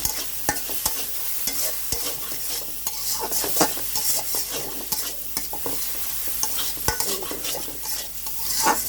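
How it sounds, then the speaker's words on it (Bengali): Fish roe fries in oil with a steady close sizzle, while a utensil scrapes and taps against the pan in repeated stirring strokes. "এটা তেলের উপর ভাজতে হবে, কারণ হচ্ছে পানি দেওয়া যাবে না"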